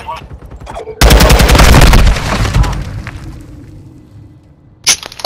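Loud close gunfire in Call of Duty: Modern Warfare II: a dense, rapid automatic burst lasting over a second that fades into echoing tails, then one more sharp shot near the end.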